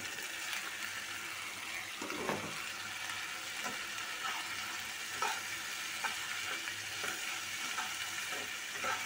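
Onions and curry leaves frying in a pan for Indian-style pasta, a steady close sizzle with occasional stirring scrapes and crackles, no one speaking.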